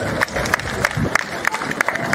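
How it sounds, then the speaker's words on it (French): A rally crowd claps and cheers continuously, a dense wash of applause with rhythmic clap accents, while a voice carries faintly underneath. "Je vous demande d'applaudir très fort pour les dames, s'il vous plaît."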